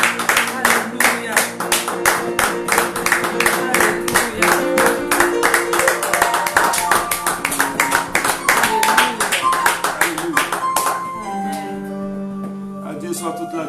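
A church congregation claps a steady, fast beat during praise worship, with music and singing underneath. The clapping thins out near the end, leaving sustained tones.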